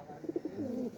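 A pigeon with an eye ailment, brought in after a storm, gives three quick soft coo pulses followed by a drawn-out low note, faint and alone.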